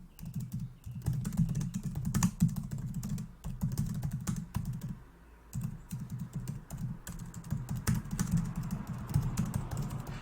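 Rapid, steady typing on a computer keyboard while a prompt is entered, close and clear, with dense clattering keystrokes in bursts and a brief pause near the middle, no voices.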